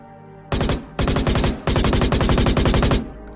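Automatic gunfire in a zombie survival video game: three loud, rapid bursts, the last one longest, with recoil-heavy firing and no talk over it.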